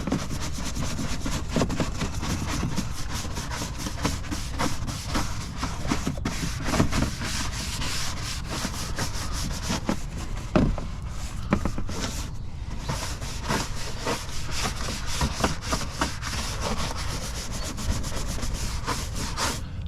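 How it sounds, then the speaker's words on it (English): A soft bristle brush scrubbing the inside of a car's faded wheel well gives a steady, close, rough swishing and rubbing that continues without a break for about twenty seconds, with no voices. "Nothing crazy, just a regular soft bristle brush."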